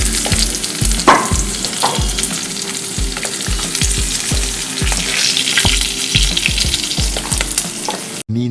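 Halved mushroom pieces fry in hot oil, a loud continuous sizzle broken by regular scraping stirs and light clinks of the pan, close up with no voices.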